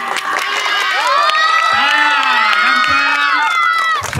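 A large audience at a Navratri fancy dress competition cheers loudly, with shrill children's shouts, whoops and steady crowd noise sustained throughout, rising in excitement and staying dense from start to finish.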